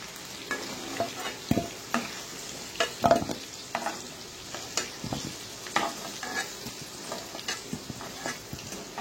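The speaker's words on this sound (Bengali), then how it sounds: "আলুটা আমার মোটামুটি ভাজা ভাজা হয়ে গেছে।" Potatoes fry in a pan while a spatula stirs them in repeated scraping, clattering strokes over a faint sizzle, close and fairly quiet, with no voices.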